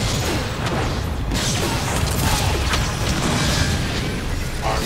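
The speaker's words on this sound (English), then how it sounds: "we blow up these godforsaken healing guns" Heavy explosions and mechanical combat clatter from the Transformers: War for Cybertron video game as healing guns are blown up, a dense, continuous, loud barrage of booms and crashes with no pauses.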